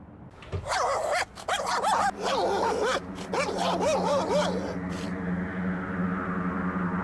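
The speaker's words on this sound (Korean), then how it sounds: "댕댕이들 싸움 났나봐" Dogs bark in a horror video game, several sharp yelps and barks in quick bursts that stop about two-thirds through, leaving a low droning ambience.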